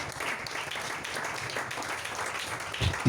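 A church congregation applauds during a sermon, with steady crowd clapping throughout at moderate volume and a louder thump just before the end.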